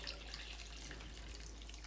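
Warm water pours into a bowl for spelt bread dough, a faint, steady trickle and splash heard close and alone.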